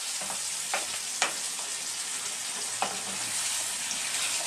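Chicken, tomato and puree are stirred in a hot pan, with a steady sizzle under a few soft scraping strokes of the utensil, close by and with no voices.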